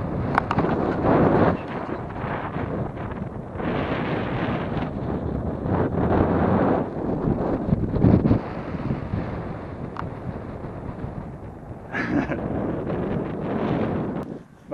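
Heavy wind buffets the microphone in strong, rumbling gusts throughout on a Dartmoor hike, with a voice partly audible beneath the roar.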